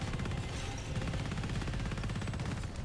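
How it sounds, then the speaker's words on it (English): A T7 Mini-Chaingun in PlanetSide 2 fires a sustained, rapid, even stream of shots, loud and close, with no pauses. "The chain gun is also a great supplement to anti-air measures, as it seems to deal really decent damage to ESFs."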